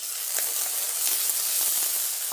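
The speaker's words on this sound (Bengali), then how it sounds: "ফেটানো দই দিয়ে দিচ্ছি" Beaten yogurt hits a hot pan for a turmeric curry, giving a loud, steady, close-up sizzle and crackle of frying that lasts throughout with no voices.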